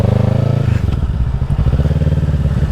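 A 2024 Kawasaki Ninja 650 accelerates out of a turn, its engine pulsing loud and close with a rising throttle note and a low rhythmic drone throughout.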